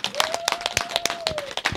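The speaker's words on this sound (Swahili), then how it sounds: "Makofi mengi kwa mheshimiwa mbunge." A crowd at a neighbourhood event where a member of parliament hands over donated building materials claps in quick, uneven bursts, close and lively, while a thin whistle-like tone rises and holds across the middle.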